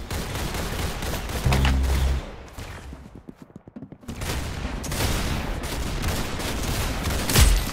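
Gunfire in the Roblox Arsenal video game: dense, loud volleys of shots that thin into a quieter stretch of scattered cracks, then build back into continuous firing.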